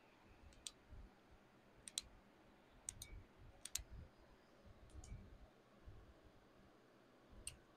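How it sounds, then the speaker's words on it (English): A small handheld flashlight from a budget everyday-carry kit, powered by a AAA battery, gives several crisp, faint tail-button clicks, some in quick pairs, spaced out over a quiet room background. "I like that light. It's got a nice audible click."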